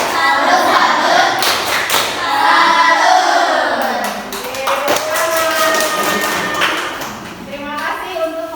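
A school class of eighth-grade students clapping hands together in a rhythmic unison salute pattern, fairly close and loud, mixed with children's voices chanting along.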